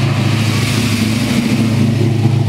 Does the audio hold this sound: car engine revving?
yes